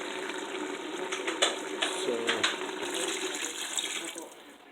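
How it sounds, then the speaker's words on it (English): A jar of water pours steadily into a pot of Indian beef curry for several seconds, a continuous close splashing with a brief spoken word at the start. "I'm going to go ahead and add another jar of water"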